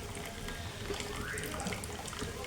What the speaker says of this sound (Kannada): ಮಾಡಿದ ತಕ್ಷಣ ಇದು ನೀರು ಇರುತ್ತಲ್ವ, ಎಕ್ಸ್ಟ್ರಾ ನೀರು, ಅದನ್ನು ಒಂದು ಪಾತ್ರೆಯಲ್ಲಿ ಈಗ ತಕ್ಕೊಂಡ್ಬಿಡಬೇಕು